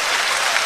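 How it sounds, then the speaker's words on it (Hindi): Audience applause in a hall during a Hindi talk, a short dense burst of many hands clapping, loud and close, with no voices over it. "इधर से तालियां कम बज रही हैं"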